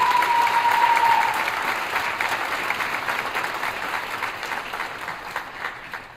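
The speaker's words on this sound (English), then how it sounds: "So Bridget and Amorosa, stand and accept a round of applause." Loud, sustained applause from a large audience at a school band concert, steady at first and gradually tapering off.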